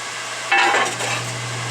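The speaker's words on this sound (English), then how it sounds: "I'm just going to clean those up here on the disc sander" A disc sander hums steadily as sharp corners of a metal dinner triangle are smoothed, with one brief, louder grinding contact in the middle.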